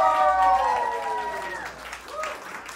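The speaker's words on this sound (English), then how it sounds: "Round of applause." A live audience claps and whoops at a snack review, a burst of applause with sliding cheers that is strongest at the start, then thins out and briefly swells again.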